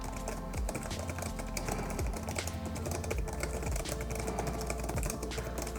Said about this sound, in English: It's a bit noisy too when I was typing on it